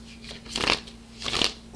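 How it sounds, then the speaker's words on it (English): Tarot cards being shuffled in two brisk riffling bursts close to the microphone, each a soft papery flutter separated by a short pause, with a faint steady hum underneath. "there's 2 more shuffles to go"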